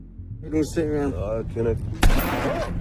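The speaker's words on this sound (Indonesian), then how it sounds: "Sampai akhirnya Simon melepaskan tembakan peringatan" A sharp, loud gunshot, a warning shot, cracks once amid people talking, its burst trailing into a brief noisy decay.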